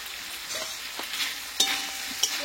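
A vegetarian papaya curry seasoned with salt, turmeric and sugar is stirred in a hot pan. A soft sizzle runs beneath a couple of distinct spoon knocks and scrapes over a short span.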